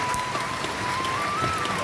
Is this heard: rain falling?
yes